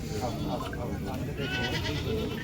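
Goats bleat several times amid a busy crowd, with people talking close by over the animal calls.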